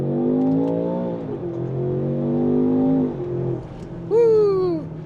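An SUV launching hard from a standstill in second gear, its engine note climbing loud and close, dropping at a shift, then rising again to a sharp high whine near the end.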